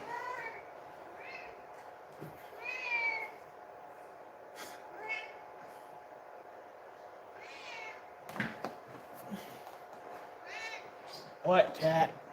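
A house cat meows several times at moderate distance under a steady background hum, with a person talking intermittently nearby.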